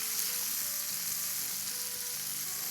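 Onions sautéing in a pan for an Indian-style pyaaz ki sabzi, a steady, close sizzle and fry with faint stirring throughout, no voices.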